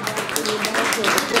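Audience applause at a birthday celebration for a singer, a brief continuous patter of many hands clapping, fairly close and even, with voices mixed in.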